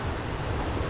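Ocean surf at Rocky Point during the first winter swell gives a steady, dense wash of breaking waves, loud and continuous, with no voices.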